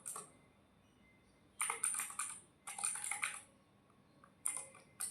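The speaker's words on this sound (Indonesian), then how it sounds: "kita harus mengetikkan" Commands are typed on a computer keyboard in quiet, close clusters of rapid key clicks separated by pauses, with no talking.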